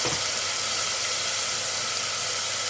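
Onion paste with chili powder sautéing in a hot pan for North Indian kadhi pakora, giving a steady, close, continuous hissing sizzle that runs unbroken throughout.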